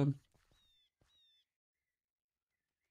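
Birds calling in a modded Minecraft world (TNP Limitless 6): two short, thin whistling cries in quick succession, fairly faint and alone after a brief burst of noise.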